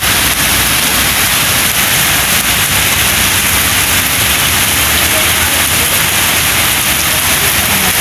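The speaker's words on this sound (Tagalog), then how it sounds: "Napakalakas ang ulan." Heavy rain pouring down as a loud, dense, constant hiss with no breaks, near and enveloping, heard alone without voices.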